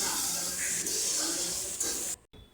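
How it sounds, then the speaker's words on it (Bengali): Chopped onions and slit green chillies sizzle in leftover fish-frying oil seasoned with cumin, dried red chilli and bay leaf, a loud, close, steady hiss that cuts off abruptly near the end. "এবার দিচ্ছি পেঁয়াজ কুচি আর চেরা কাঁচা লঙ্কা। পেঁয়াজ ভেজে নেব।"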